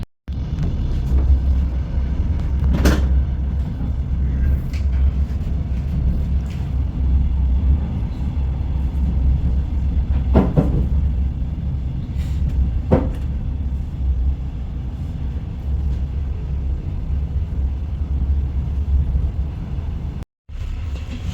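Steady low rumble of a moving train from inside a carriage, with a few sharp knocks and rattles scattered through.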